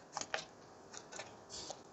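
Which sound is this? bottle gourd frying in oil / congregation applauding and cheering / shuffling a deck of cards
shuffling a deck of cards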